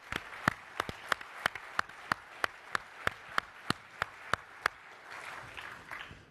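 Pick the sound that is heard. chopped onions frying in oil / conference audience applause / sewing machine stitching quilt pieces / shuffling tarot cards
conference audience applause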